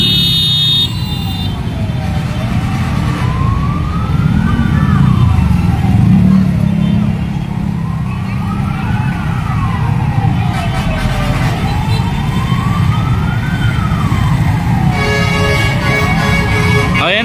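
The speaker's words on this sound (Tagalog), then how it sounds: "Ayan na, sunod-sunod na yung mga bombero." Fire engine sirens wail in slow rising and falling sweeps as fire trucks pass one after another along Mindanao Avenue in Quezon City, loud and steady over heavy road noise.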